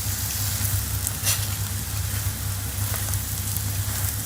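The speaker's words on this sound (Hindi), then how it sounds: "हम इसे मीडियम आंच पे दोनों तरफ से अच्छी तरह पराठे को पका" A green chana paratha fries on a pan over medium heat, giving a steady, close crackling sizzle with a few sharper pops and no voices.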